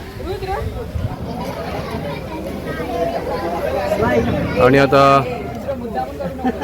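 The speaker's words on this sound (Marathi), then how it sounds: "हळूहळू गर्दी होतीये." Chatter of a gathering crowd at a school supplies distribution by a charitable trust, a steady babble of many voices with nearby talk over it and a brief louder tonal sound near the end.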